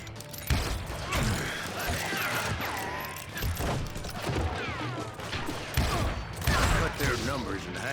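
Gunfire in the Call of Juarez video game on Nintendo Switch, several sharp shots and bursts with clanking mechanical noise, mixed under a speaking voice.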